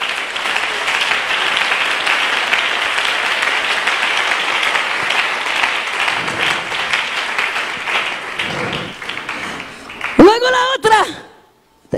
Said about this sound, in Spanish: Denle un aplauso a Jesús en esta noche.